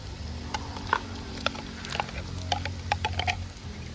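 Chopped tomatoes dropped into onions frying in ghee and butter give a soft, steady sizzle with small pattering crackles and pops scattered throughout, close and fairly quiet.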